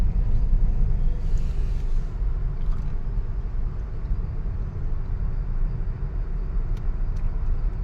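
Heavy road traffic on Hosur Road rumbles continuously, a dense low roar of engines and tyres with occasional faint horns and rattles, steady and fairly loud with no talking.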